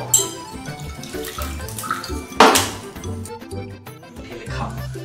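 Liquor poured into a glass, a close splashing trickle of liquid with a brief knock partway through, set against a low murmur of background noise.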